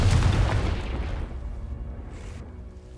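Confringo blasting spell in the video game Hogwarts Legacy: a loud, deep boom that bursts at once, then rumbles and fades over a few seconds, with no talking.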